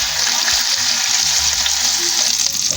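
Skinless longganisa sausage frying in its own rendered fat in a pan, a steady loud hiss and crackle of sizzling grease running continuously without a break.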